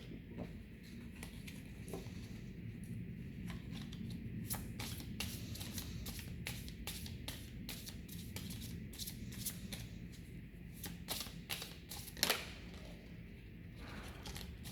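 Tarot cards being shuffled by hand, close and quiet: a long run of rapid riffling flicks and soft patter, continuous and rhythmic with no talking.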